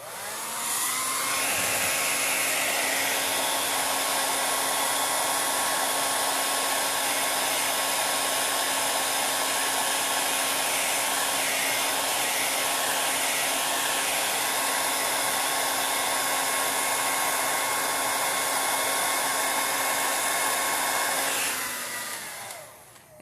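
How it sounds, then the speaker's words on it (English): A hair dryer blows continuously on its cool setting to dry paint on a winter-themed craft piece, a loud steady whirring hum that starts quickly and cuts off near the end. "I'm going to blow dry this"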